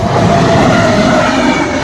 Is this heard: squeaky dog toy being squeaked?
no